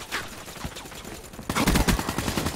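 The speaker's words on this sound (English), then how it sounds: "Only gunshots and gunshots." Gunfire from the Call of Duty Black Ops III video game: scattered shots at first, then a dense, loud burst of rapid automatic fire in the second half.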